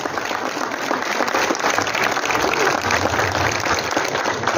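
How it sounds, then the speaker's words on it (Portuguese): Loud sustained applause from a crowd at a church procession and novena celebration, greeting a chapel community group, a dense even clatter of many hands with no break. "Forte salva de palmas ao pessoal da capela São Paulo."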